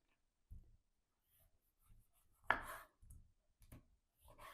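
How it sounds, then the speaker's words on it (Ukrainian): A knife cuts through a peeled orange, splitting it into quarters: a few separate soft chops and thuds on a board, spaced apart, with faint clicks between them, quiet and close. "Швиденько почистили апельсин і його наріжемо також чвертками."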